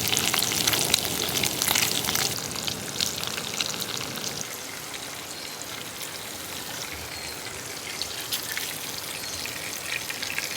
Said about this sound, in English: I'm not sure if I'm going to eat all of this bacon. There's quite a lot in here. We'll cook it all up though.